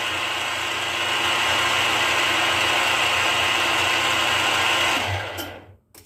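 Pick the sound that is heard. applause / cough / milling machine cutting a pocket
milling machine cutting a pocket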